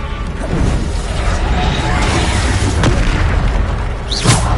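A Bombarda spell blast in a Hogwarts video game, a loud booming explosion with a sharp burst near the end, heard alongside a person speaking.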